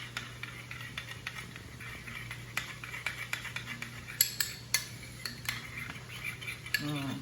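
A utensil clinks and scrapes against a bowl as egg roll in a bowl ingredients are mixed, giving a quiet run of irregular close taps under a low steady hum.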